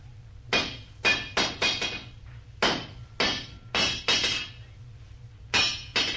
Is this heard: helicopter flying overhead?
no